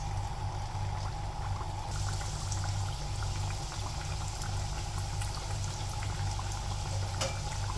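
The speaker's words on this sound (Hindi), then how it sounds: "तेल गर्म हो गया, इसको हम दरमियानी आंच पे डीप फ्राई करेंगे।" Keema kachori deep fries in hot oil over medium heat, a steady, dense bubbling sizzle that holds at an even level from start to finish, close and alone without voices.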